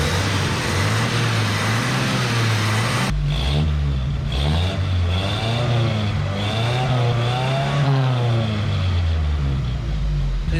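A 1977 Datsun 620 pickup engine running after carburetor tuning, loud and close, idling with a steady low drone that rises and falls through repeated revs.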